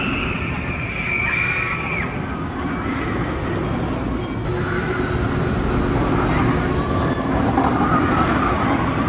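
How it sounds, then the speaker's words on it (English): Rumbling, rattling ride on an amusement park train at Knott's Berry Farm, a steady broadband clatter running throughout at constant loudness with faint voices in the background. "the train ride was great"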